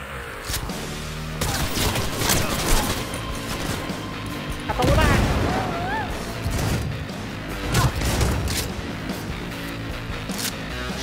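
Shotgun fire in Cyberpunk 2077 combat, several loud, punchy blasts and crashing impacts spaced irregularly over a busy game soundscape, with electronic effects and brief voices between shots.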